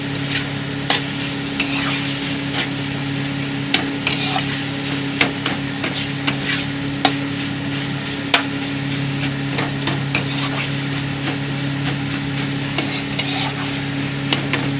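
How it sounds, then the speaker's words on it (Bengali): Chicken filling for stuffed capsicum sizzles loudly in a pan while a spoon scrapes and knocks against the metal again and again at an uneven pace, with no talking. "দেখুন আমি এইভাবে নাড়িয়ে নিয়েছি"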